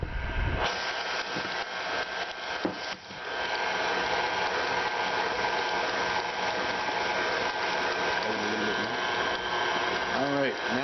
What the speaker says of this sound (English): what I'm going to do is shut the mixer off, scrape down the blade